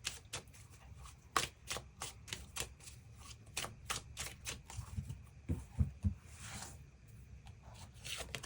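Tarot cards are shuffled and drawn in a quiet room, a close run of crisp, rapid riffling snaps and flicks repeating in bursts.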